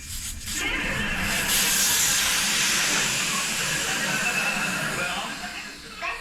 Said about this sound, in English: start by getting the air out